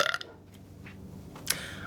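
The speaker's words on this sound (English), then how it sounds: "I'm just good at burping." A person lets out a brief, low burp up close. Faint background hum fills the quiet around it, and a short sharp sound near the end adds a second small burst.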